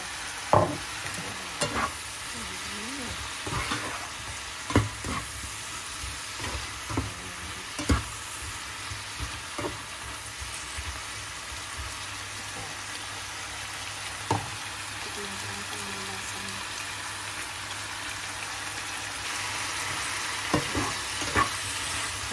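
Celery, carrots and chicken stir-frying with oyster sauce and a little salt, a steady close sizzle broken by repeated sharp scrapes and clinks of a utensil against the pan.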